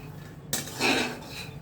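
A metal pan clinks once, then a short burst of scraping and rattling as something is stirred dry in it.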